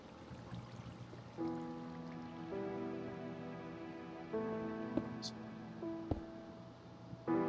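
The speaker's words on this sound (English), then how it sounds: "let's pour some water up here, and it's still coming down" Water pours down in the Minecraft video game, a soft steady trickling wash under layered tonal game music, with faint clicks and a couple of brief effects.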